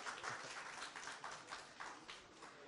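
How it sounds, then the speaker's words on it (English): Audience applause at a convention, a steady wash of clapping from a crowd lasting a few seconds, moderately distant and fairly quiet with no talk over it. "one more round of applause"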